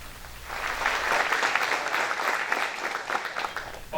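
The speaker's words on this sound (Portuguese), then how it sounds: "Queria pedir uma salva de palmas para ela." An audience at a formal book launch ceremony in a municipal chamber claps in dense, sustained applause that swells after half a second and holds steady for about four seconds, with no voices.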